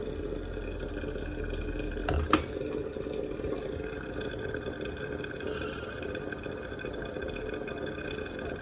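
Water boils and spits inside a Biolite KettleCharge USB camp kettle over a gas flame, a steady close-up hiss and bubbling with one sharp click partway through and no talking.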